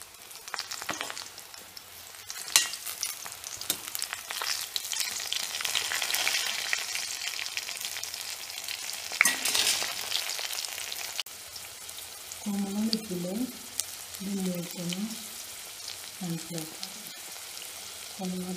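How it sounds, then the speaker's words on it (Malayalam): Chili bhaji fritters frying in oil: a moderate, bubbling sizzle with scattered pops and crackles, joined later by a few brief tonal sounds from the kitchen. "മുളക് ബജി മൂത്തെന്ന് മനസ്സിലാകുമ്പോൾ ഇതിലെ പത കുമ്മള നിൽക്കുമ്പോൾ എല്ലാ സൈഡും വെന്ത് മൂത്തെന്ന് മനസ്സിലാക്കി അപ്പോൾ കോരിയെടുക്കാം."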